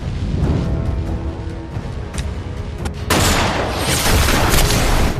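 A film explosion as planted explosives are set off by a sniper's shot, a sudden broad, loud blast around three seconds in that holds as a dense roar after a noisy stretch of gunfire-like rumble.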